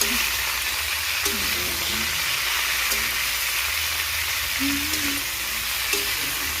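Cabbage and potato with turmeric frying in a pan, giving a steady broad sizzle throughout with occasional stirring scrapes and faint clinks over a low background hum.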